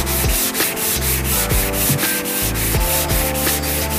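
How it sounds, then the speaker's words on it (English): Primer on a Mitsubishi Evo 9 wide wing panel is sanded by hand, with rhythmic back-and-forth rubbing strokes, about two per second, loud and close with no other sound. "you get rid of the 240 scratches with rubbing it down"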